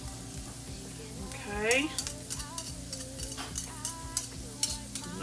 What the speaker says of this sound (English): you'll kind of just stir this around, let it kind of coat the vegetables